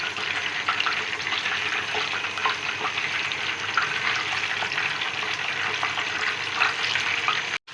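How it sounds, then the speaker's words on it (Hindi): Chicken pieces for chow mein frying in a pan over a medium-low flame, a steady, even sizzle with faint stirring, close and continuous with no talk. "इस तरह आपने सारी चिकन एक दफ़ा ही डाल देनी है और मीडियम लो फ्लेम पे आपने इसको फ्राई करना है"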